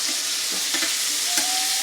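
Shrimp fry in a hot pan for a honey glazed shrimp dish, giving a steady close sizzle with a few faint clicks as they are turned with tongs. No one speaks.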